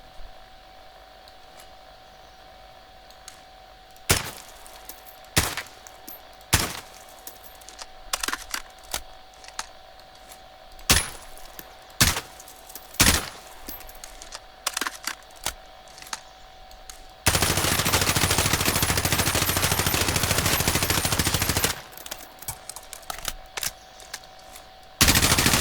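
An M16 fitted with a monolithic suppressor fires in Call of Duty Warzone: sharp, spaced shots and short bursts at irregular intervals, with a loud sustained noisy stretch in the middle and more shots after.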